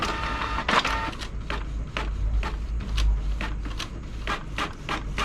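A Canon inkjet printer runs after its E07/E08 waste-ink absorber error is cleared, giving a steady motor hum with a string of rhythmic mechanical whirs and clicks from the carriage. Nobody speaks.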